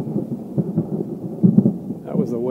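Low, continuous rumbling of thunder from a storm off at a distance, steady and rolling for a couple of seconds with a faint voice-like murmur near the end.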